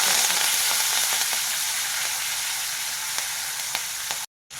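Green and dry chillies frying in a pan for Kabul chana, a steady close hiss and sizzle with faint stirring clicks, ending in a sudden cut to silence.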